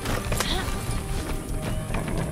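A horse gallops in the Far Cry 6 video game, with a steady clip-clop of hooves over a dense, busy background of game sound and speech.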